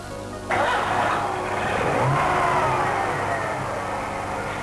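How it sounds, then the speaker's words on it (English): A car engine being tuned, started and left to idle, running steadily and fairly loud after an abrupt start, with no talk over it. "Start the engine and let it idle."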